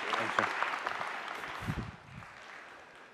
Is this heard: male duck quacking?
no